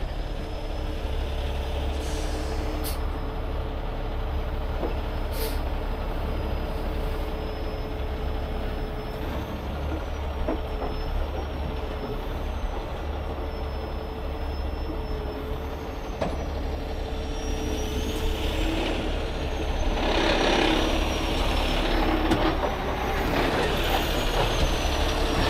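A large truck idles and manoeuvres with a steady low diesel rumble, giving short hissing bursts of air brake release and a faint high whine, with louder hissing near the end.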